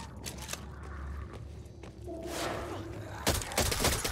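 Scattered gunfire bursts from a machine gun in the zombie shooter Back 4 Blood, several sharp cracks mixed with thuds and footsteps, with a louder flurry of shots near the end over game ambience.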